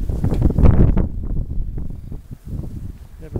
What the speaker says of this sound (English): And it's windy still.